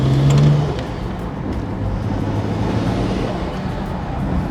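A BMW E90 car accelerates onto a highway, giving a steady low engine rumble with road noise from inside the cabin, fairly loud and continuous with no talking.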